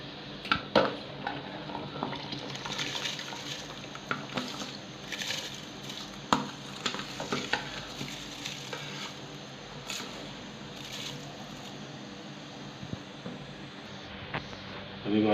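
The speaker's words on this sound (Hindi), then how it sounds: "अभी माशाल्लाह चावल ऐड कर दिए हमने" Rice poured into boiling water for biryani and stirred in a pot, giving scattered clinks, scrapes and bubbling patter close by, with a spoken voice over parts of it.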